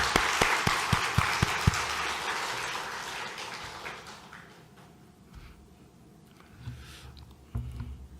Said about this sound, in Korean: 영광의 박수 올려드리고 마치도록 하겠습니다.